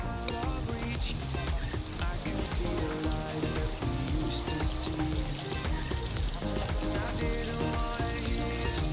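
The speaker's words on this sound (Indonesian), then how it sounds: "Kalau sudah, langsung kita goreng." Chili sambal mixed with flour fries in hot oil, giving a dense, continuous sizzle and crackle that runs loudly and evenly throughout with no pauses.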